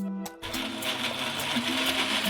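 Kitchen blender whirring steadily as it blends ice cream into a melon mint milkshake, a short burst at the start then a continuous loud motor drone with no talk.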